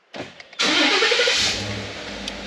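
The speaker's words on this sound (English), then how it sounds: "And just like that, we have a truck running" A Ford F-150 pickup cranks over after a remote start, a short starter whir breaking into a sudden loud catch, then settling into a steady close idle rumble, no talking.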